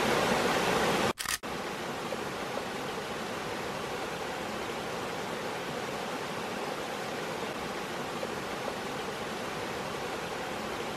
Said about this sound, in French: il va faire un petit time-lapse de cette jolie petite chute d'eau